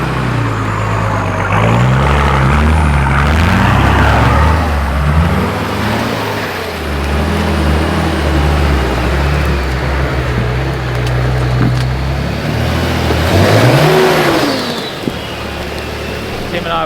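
A Nissan Patrol 4WD grinds up a steep hill in the rain in second gear, low range, with both lockers engaged; the engine drones loud and close with rising and falling revs under intermittent talk.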